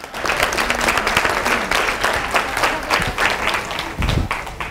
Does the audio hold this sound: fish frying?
no